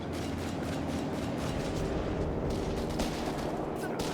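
British 6-pounder anti-tank guns firing in Company of Heroes 3 amid a dense, continuous din of battle gunfire and blasts. A commentator talks over it throughout.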